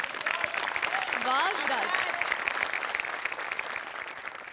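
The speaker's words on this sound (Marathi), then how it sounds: "त्याकरता तुझ्यासाठी विशेष टाळ्या" An audience at a Marathi comedy show breaks into applause for a performer, brisk clapping throughout with a voice and a short musical tone rising over it partway.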